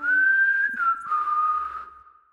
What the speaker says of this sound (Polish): A któż to tak pięknie pogwizduje?